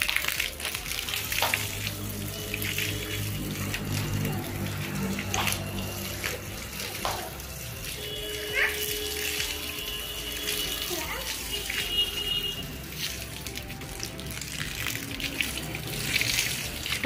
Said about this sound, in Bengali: দেখি মা, চলো চলো চলো বারান্দা ধুয়ে দিই।